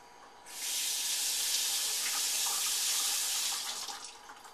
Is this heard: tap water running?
yes